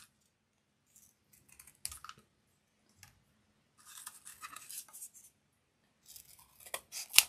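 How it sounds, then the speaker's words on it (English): Scissors cut round shapes from paper up close, making short snips and longer rustling cuts in bursts separated by near silence. "So I'm just randomly holding it, cutting round shapes."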